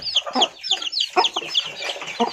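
Several crossbred Bangkok and village chickens cluck close by in quick, overlapping bursts, with sharp high calls scattered over a short stretch.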